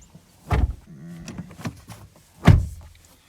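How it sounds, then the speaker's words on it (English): A door closes on a 2020 Toyota Tacoma TRD Sport, giving two solid, close thumps about two seconds apart, with a faint mechanical whir between them. "I'm gonna close the door."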